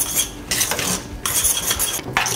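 A utensil scrapes and stirs couscous in a pan, loud close bursts of gritty scraping in uneven strokes separated by brief pauses.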